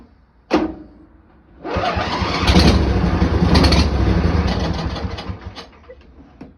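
A Briggs & Stratton Intek 21 HP engine on choke opens with a sharp click, then cranks loudly and closely for about five seconds in a rapid, churning starter rhythm that fades out without catching.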